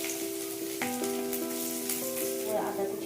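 Chopped garlic dropped into hot oil with cumin and bay leaf, frying for a restaurant-style chilli chicken; a steady close sizzle runs throughout with a faint tonal hum from the kitchen.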